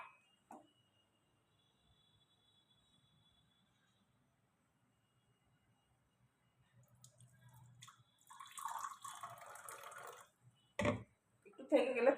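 A little water trickles and splashes into milk tea being made, with faint drips early on and a short pouring burst later, mixed with someone talking nearby.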